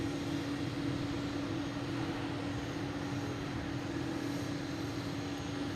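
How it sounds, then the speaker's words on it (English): A Boeing 747 on approach to land at Boston Logan International Airport, its engines a steady, continuous broadband roar with a low hum, distant and moderately loud throughout, with no voices. "And we got the 747 trying to sneak in around us here. Here it comes."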